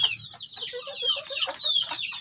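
Crossbred village chickens, a mix bred from six breeds, cluck and call close by in a quick series of short, distinct notes, with chicks and birds of various ages around.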